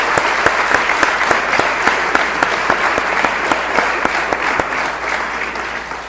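Steady audience applause fills a hall at an excellence scholarship ceremony, many hands clapping loudly and evenly for a scholarship winner who is absent on an internship abroad.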